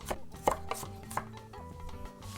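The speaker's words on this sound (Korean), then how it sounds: "그냥 몇 번만 이렇게 다져주세요" A kitchen knife chops garlic coarsely on a cutting board, a quick run of crisp, uneven knocks close by that slows into a few scattered strikes.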